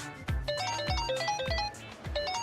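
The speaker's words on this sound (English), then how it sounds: "is that your phone?" A phone rings in Like a Dragon: Infinite Wealth, sounding a bright electronic ringtone in repeated melodic bursts about every half second, clear and alone with no voices.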